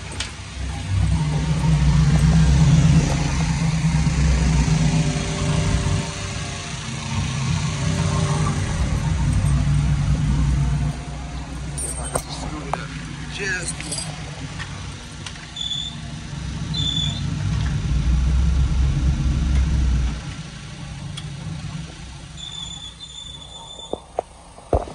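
A Pontiac Trans Am engine idles steadily and loudly up close, a continuous low rumble with slight variations, with a few faint clicks and sounds near the end.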